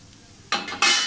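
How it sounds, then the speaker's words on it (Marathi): Freshly grated wet coconut roasting in a pan for a Maharashtrian yam masala bhaji, heard as two sudden bursts of stirring and scraping against the pan after a quiet start, close and fairly loud. "आता हे पण आपण छानपैकी भाजून घेऊया."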